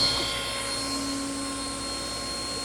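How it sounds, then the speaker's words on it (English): A Brown & Sharpe universal ID/OD cylindrical grinder running with its internal-grinding spindle switched on, giving a constant high-pitched mechanical whine with steady tonal hum lines, loud and unbroken from start to finish. "when we start up the machine, we're going to have the ID spindle on"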